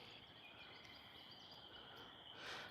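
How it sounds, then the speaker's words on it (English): A faint, high, continuous trill of a gray tree frog calls from a distance in Maine, with soft insect-like chirring in the background and no talking. "the gray tree frog, and it kind of is this trill."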